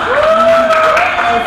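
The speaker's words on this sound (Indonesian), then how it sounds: "tepuk tangan boleh teman-teman" Guests clap at a birthday party in a steady, close burst of applause, while a voice speaks over the clapping.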